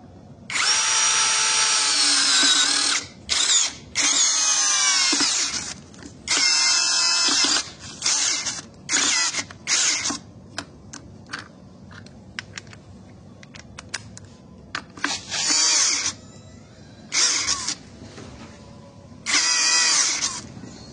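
A 16V brushless impact drill drives a 15 cm, 6.3 mm screw into hard root wood in loud, close bursts of whirring and rapid hammering, cut by short pauses.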